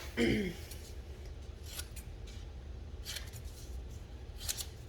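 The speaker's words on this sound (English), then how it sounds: "You're just gonna cut out your images." Scissors cut out paper images for a Christmas Eve box, giving soft, close snips and rustling paper against a quiet background, faint and intermittent.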